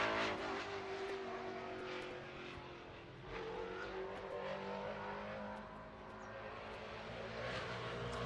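Race car number 73 runs down the back straightaway of a high-banked oval during afternoon qualifying, its engine a steady, distant drone with slight rises and falls.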